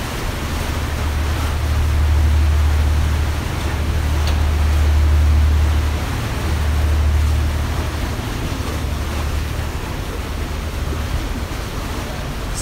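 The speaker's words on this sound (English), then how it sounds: "Yes, the sound of water, very, very therapeutic." Steady water wash and churn from a tour boat on the Seine in Paris, a broad continuous rush with gentle surges and light wind, no voices over it.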